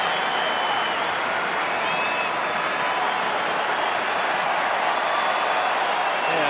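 A large stadium crowd at Old Trafford, gathered for Gary Neville's testimonial between Manchester United and Juventus, applauds David Beckham in a sustained, dense roar of clapping that stays loud and even throughout, with no voices standing out.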